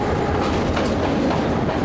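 A train pulls into a station in Sri Lanka, its steady rumble and clickety-clack of wheels filling the scene loudly and continuously without pause, with no voices over it.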